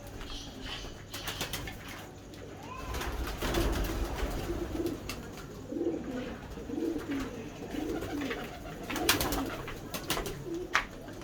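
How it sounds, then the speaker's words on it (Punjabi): Pigeons coo softly in low, repeated murmurs, with occasional wing flaps and light clatter nearby. "ਮੈਂ ਪਹਿਲੇ ਕਬੂਤਰ ਲਿਆਉਣਾ।"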